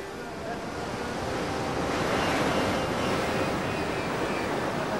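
Surf waves breaking on a beach where boats launch through the breakers, a steady loud wash of churning water and wind roar building toward the middle and sustained throughout, with no voices.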